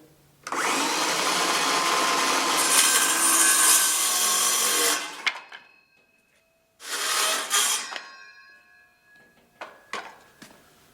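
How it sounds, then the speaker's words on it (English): A power tool cuts around the edges of a wooden piece, roaring loudly and steadily for about five seconds, then cutting again in a shorter burst, followed by a few faint knocks and scrapes. "Cut it off right here and around all of the edges."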